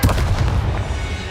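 A spell cast in the fantasy video game Hogwarts Legacy, likely Expelliarmus, lands as a short, loud booming blast with a rumbling low-end tail, heard alone and close.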